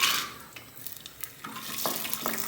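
Cashews and raisins fry in hot ghee for an apple pumpkin halwa, giving a soft sizzle broken by a few quick stirring and spoon scrapes against the pan, close by and with no voices.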